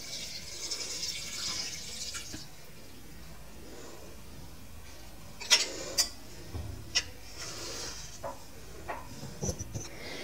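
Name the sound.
pouring water into a cooking pot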